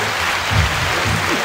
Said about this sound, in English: this round of applause is for you